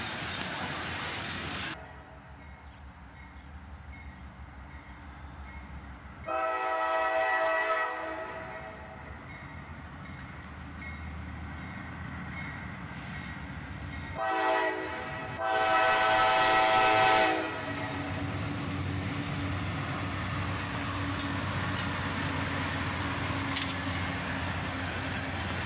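A long freight train passes on the rail line, its horn sounding in loud blasts near the start and again midway, with the rumble and clatter of wagons rolling by between and after.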